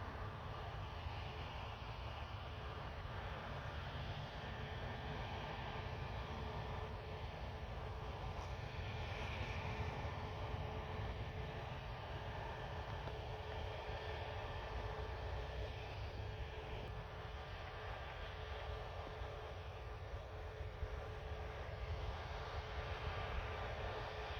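Air France Airbus A320 taxiing at Orly airport, Paris: a continuous low jet-engine rumble and whine, steady and moderately distant, heard alone without talk.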